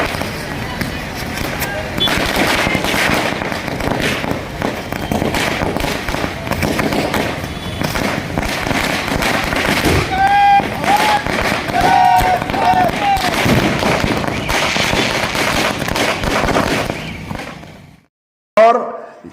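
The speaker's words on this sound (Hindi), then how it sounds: "पटाखे फोड़े गए और पटाखे फोड़ के खुशियां मनाए गए।" Firecrackers burst in dense, rapid volleys at a Shiv Sena celebration in Umarkhed marking Sanjay Raut's release from jail. The crackling is loud and nearly continuous, with voices partly heard amid the bangs.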